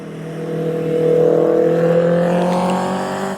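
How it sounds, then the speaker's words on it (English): A car at the Doune Hillclimb motorsport event roars past, its engine note swelling, rising and then fading over a few seconds, fairly close and loud, with no voices. "oh, here's a car."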